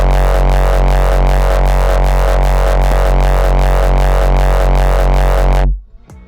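A heavy, buzzing saw kick made with the Vital synth pounds in a fast, even pulse, thick and distorted, then cuts off abruptly near the end, leaving brief quiet.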